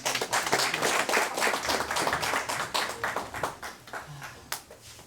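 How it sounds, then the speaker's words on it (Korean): A seminary retreat audience gives warm applause to welcome a preacher, brisk clapping from a fairly small group, strong at first and then tapering into scattered claps. "뜨거운 박수로 환영하겠습니다"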